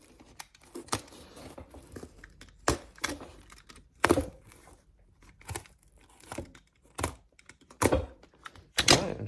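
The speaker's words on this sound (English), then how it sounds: "But carefully cutting this sole off." A knife slicing through stitching to cut the sole off a cowboy boot during resoling: close, irregular crisp snips and tearing crackles, each one short and sharp, separated by quiet pauses.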